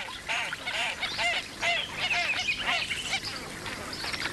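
Ruddy shelducks call in the wild in Greece, a cluster of nasal honking, goose-like cries repeating and overlapping at close range over a noisy background.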